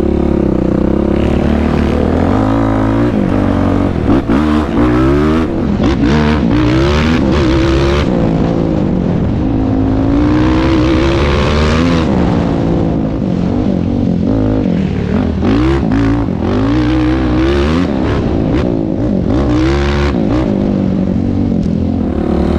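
A Yamaha YFZ450R ATV engine revs hard and continuously while riding offroad, loud and close, rising and falling with throttle and gear changes throughout with no talk.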